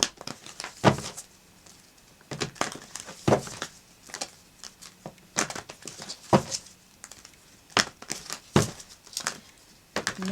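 Tarot card decks being shuffled by hand, a steady run of crisp riffling and slapping card sounds, close up and loud with no talking.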